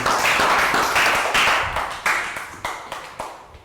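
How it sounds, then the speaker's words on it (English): A small group of students in a Year 3 math class clap briefly, a handful of sharp, separate claps fading out over a few seconds, fairly close and without talk. "Round of applause, well done"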